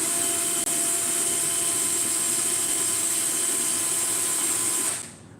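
A power drill spins steadily at high speed, flinging loose paint off a stirring attachment; a loud, continuous whine holds for about five seconds, then winds down and stops.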